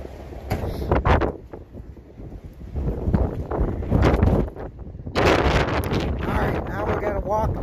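Outdoors at an equipment auction, strong gusts buffet the microphone in heavy rumbling bursts that rise and fall, with voices talking now and then under the blowing.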